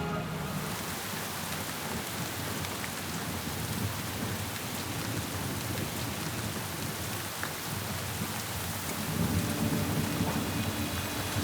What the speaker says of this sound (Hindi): या अल्लाह खैर, इतनी खतरनाक बारिश।